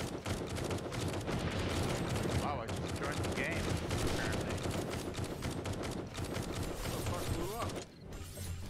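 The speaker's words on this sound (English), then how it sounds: "I shot him with a rocket launcher." Rocket launcher and other weapons firing during a blood moon horde night in a survival video game, a dense, continuous barrage of booming shots and gunfire with explosions throughout, mixed with voices talking over the chaos.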